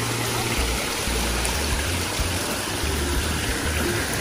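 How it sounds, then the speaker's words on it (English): A waterfall inside a jungle-themed condo home, giving a steady, continuous rush of falling water that fills the space, loud and close, with low hum underneath and no talk. "Look at this waterfall."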